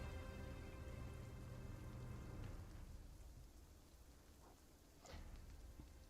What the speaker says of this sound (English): all of the rain battering down everywhere and the weather, the distant thunder